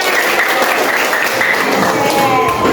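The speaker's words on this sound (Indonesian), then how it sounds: "Tepuk tangan." A room of classroom students applauds in a fairly loud, continuous patter of many hands clapping, steady throughout without a clear beat.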